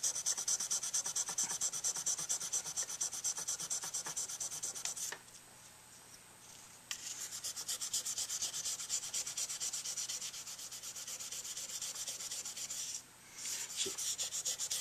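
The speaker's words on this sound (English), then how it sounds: "So that's the finest sandpaper I use when I reface." Fine sandpaper is rubbed steadily against a tenor saxophone mouthpiece during refacing, giving a close, continuous scratchy sanding that stops briefly twice before resuming in the same even strokes.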